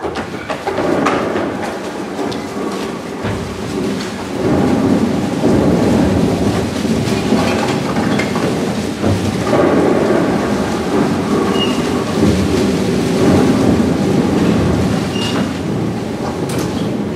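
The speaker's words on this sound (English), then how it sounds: "I think the lightning must have hit something around here. I heard a terrible crack." A thunder and lightning crack effect played during a live stage production: a long, loud rolling rumble with crackling texture that swells and lingers throughout, heard without speech.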